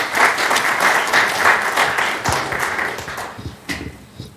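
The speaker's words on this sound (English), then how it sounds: "how about a round of applause for all three of our actors?" Audience applause for three actors at a public forum on the Idaho Public Records Act, sustained and fairly loud, then thinning out into scattered claps toward the end.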